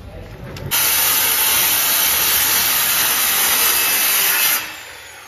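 A saw cuts through a part during cab-off work on a 6.7 PowerStroke truck, a loud, steady rasping hiss that runs for about four seconds and then stops abruptly.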